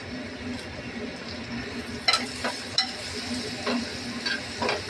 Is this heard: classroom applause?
no